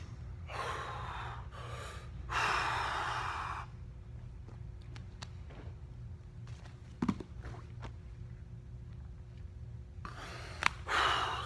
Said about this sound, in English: You breathe out a couple of times and then suck in.